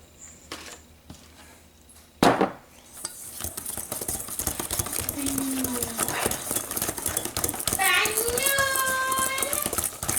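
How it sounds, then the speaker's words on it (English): Muffin batter with milk being stirred in a bowl, a steady scraping churn that grows busier over about ten seconds, with a sharp knock early on and a voice rising near the end. "now I'm just gonna mix it"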